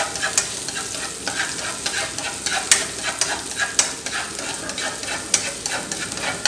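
Spicy snails stir-frying in a hot pan, a steady close sizzle broken by frequent scraping and clattering stirs at an uneven rhythm, with no voices.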